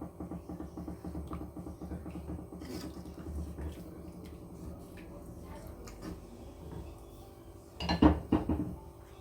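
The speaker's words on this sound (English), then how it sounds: "And I'm going to mix this." Pasta bake sauce with dried parsley being stirred in a pan, with soft repeated scraping and clinks of utensil against cookware, growing louder and sharper near the end.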